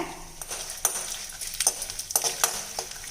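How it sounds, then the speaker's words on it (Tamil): Dried red chillies frying in sesame oil in a wok, with a soft crackling sizzle broken by sharp spits and pops and a few stirring scrapes, fairly close and moderately quiet. "இப்போ நம்ம எடுத்து வச்சுருக்க காஞ்ச மிளகாய் இதில் சேர்த்துடலாங்க"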